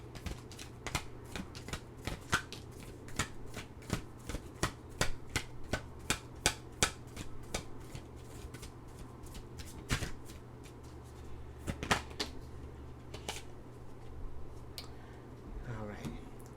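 Tarot cards are shuffled by hand in a long run of crisp riffling snaps and soft slaps, fairly close and irregularly paced, with a brief burst of rapid flutters near the end.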